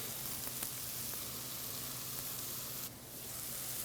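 Chopped onion and garlic sizzling in a pan with browned mushrooms, a soft, steady crackling hiss with faint pops, quietly dipping for a moment near the end.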